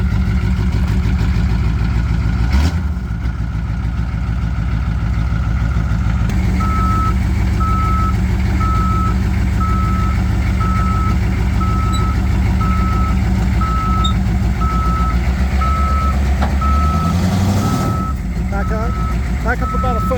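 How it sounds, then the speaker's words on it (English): A skid steer's reversing alarm sounds in a steady, evenly spaced series of beeps over a loud idling diesel engine, while voices talk nearby during work on a custom bumpside Ford F250 4x4 truck. "He's gonna get the skid steer."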